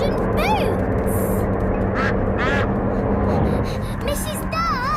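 A cartoon duck from Peppa Pig quacks in several short, bright bursts over a busy cartoon soundtrack, with a voice and other voices talking across it.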